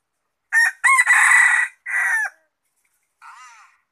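A rooster crows nearby with a loud, broken cock-a-doodle-doo, then after a pause adds a shorter, fainter call against silence.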